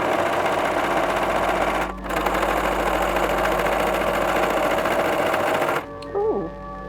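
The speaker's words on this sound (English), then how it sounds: "I'm going to sew them together like that." Sewing machine stitching folded fabric for a corset skirt, a steady loud mechanical whirr running for about six seconds with a brief dip near two seconds, then stopping; a short voice follows at the end.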